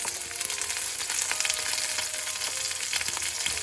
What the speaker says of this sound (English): Now the bacon is all cooked and we're ready to put all the vegetables and onions in the pan.